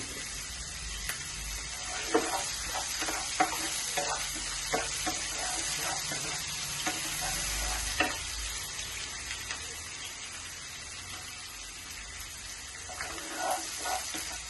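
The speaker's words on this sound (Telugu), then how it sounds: "అల్లం ముక్కలు, వెల్లుల్లి, జీలకర్ర, సోంపు, లవంగం, దాల్చిన చెక్క, బిర్యానీ ఆకు అన్ని ఫ్రై అవ్వాలి" Ginger, garlic, green chillies, cumin, fennel, cloves, cinnamon and bay leaf fry in hot oil for palak paneer, a steady hiss of sizzling with scattered small pops and crackles, close and even.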